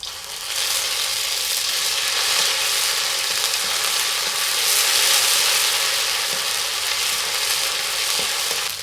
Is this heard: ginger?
yes